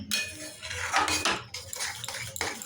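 A spoon scrapes and clatters against metal as salted spice paste and a little water go into a pan for shahi paneer; loud, busy scraping close by with no talk.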